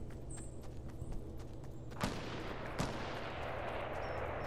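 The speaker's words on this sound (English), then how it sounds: "I hear shots." In Fortnite, two distant gunshots crack out at about two and three seconds, faint against a low ambient hum and scattered game sounds.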